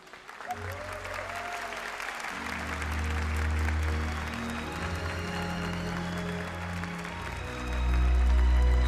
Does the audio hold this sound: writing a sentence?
no